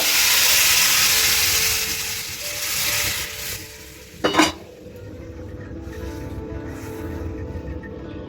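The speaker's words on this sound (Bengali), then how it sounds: "এবার গরম জলটা দিয়ে দেবো একটু বেশি করে দেবো" Hot water poured into a pan of sautéed vegetables, giving a broad hissing rush and sizzle that fades, then a sharp metallic clatter of utensils on the pan, close up with steady steaming afterward.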